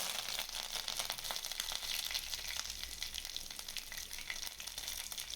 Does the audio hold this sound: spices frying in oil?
yes